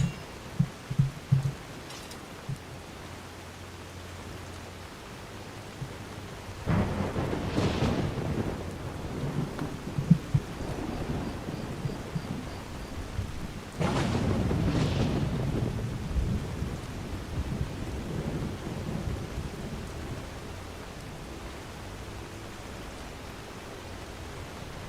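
A thunderstorm in the video game Skyrim, with steady rain hiss and two deep rumbles of thunder rolling through the middle, moderately loud and without voices.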